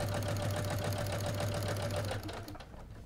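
A sewing machine stitching binding onto a thick quilt at a 3.0 stitch length, a close, rapid mechanical whir with even needle clatter that slows and stops near the end.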